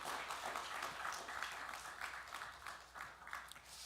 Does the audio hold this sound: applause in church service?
yes